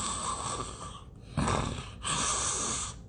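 A voice mimics loud snoring, with rough rasping breaths broken by brief pauses into a few close, separate snores and no other talk.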